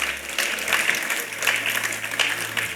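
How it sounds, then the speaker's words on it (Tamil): Audience clapping at a children's Christmas program, a steady wash of applause filling the room, moderately loud throughout with a faint low hum underneath and no speech. "உங்களுடைய கரகோஷங்களை நாங்கள் எதிர்பார்க்கிறோம்"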